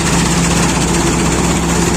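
A Sampo 500 combine harvester threshes dry soybeans in a field, its engine and threshing machinery giving a loud, steady, unbroken drone with no pauses.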